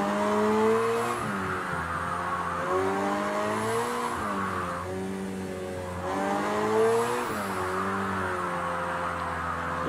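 A McLaren 720S drifting in Project Cars 2, its engine droning and rising and falling in pitch while tires squeal steadily, loud and continuous with a short dip midway before revving again.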